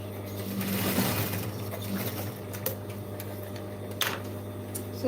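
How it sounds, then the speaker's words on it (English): Close, moderately quiet sewing machine stitching the lining of a bag made from jeans, a continuous hum with a few light clicks and handling taps over it. "And we're sewing here on the right side."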